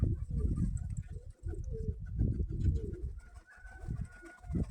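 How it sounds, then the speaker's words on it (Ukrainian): Several pigeons coo close by in overlapping low throaty calls, nearly continuous, with a faint higher tone appearing toward the end. "Ось такі в мене красні голубки."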